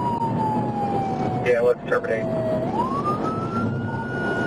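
A police siren wails during a car pursuit on Dirksen in Springfield, sweeping down and then back up in pitch. Steady road and engine noise runs underneath, and a voice speaks briefly over it.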